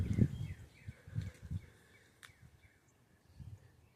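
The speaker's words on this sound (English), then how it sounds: "And you can hear the birds." Birds singing outdoors on a sunny day near a lilac bush, thin faint chirps and calls at a distance, with low rustling and handling noise closer in.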